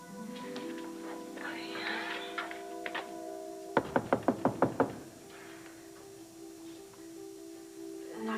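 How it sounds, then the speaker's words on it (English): Knocking on a door: a quick run of six sharp, evenly spaced raps, close and distinct, set between stretches of people talking. "Knock again."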